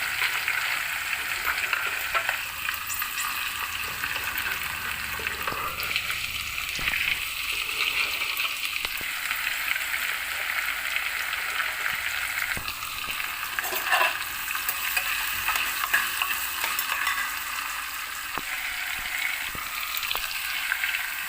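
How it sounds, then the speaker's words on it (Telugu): Green chilies and onions frying in oil in a home kitchen pan over medium flame, with a steady sizzle throughout and occasional stirring scrapes, no talking. "పచ్చిమిర్చి వేసుకొని కొద్ది గోల్డెన్ కలర్ వచ్చే వరకు ఫ్రై చేసుకోవాలి."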